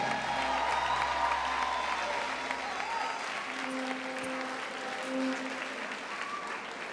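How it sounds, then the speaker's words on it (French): An audience applauds a guest, Axelle René, arriving on a French TV show: dense, steady clapping throughout, fairly loud and sustained, with faint background tones and no clear voices. "Applaudissements pour Axelle René"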